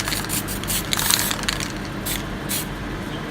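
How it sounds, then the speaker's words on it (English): Short bursts of hissing spray from a spray paint can during spray paint art, several puffs in quick succession, close and fairly loud with no talking. "spray a little bit in the peak of the pyramid"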